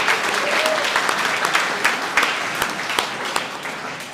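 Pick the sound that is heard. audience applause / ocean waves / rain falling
audience applause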